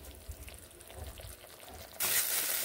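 Tomato and spices hit hot oil for tempering in a vegetarian broccoli dish, a quiet low rumble giving way to a sudden loud, steady hiss and crackle of sizzling that carries on to the end.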